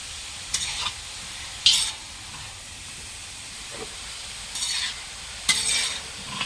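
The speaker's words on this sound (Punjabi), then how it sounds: "ਆਪਾਂ ਹੁਣ ਨਾ ਕੜਾਹੀ 'ਚ ਪਾਉਣ ਲੱਗੇ ਆ ਗਾਜਰਾਂ" Grated carrots fry in a kadai with a soft continuous sizzle, while a spoon scrapes and stirs them in several short bursts spread across the clip.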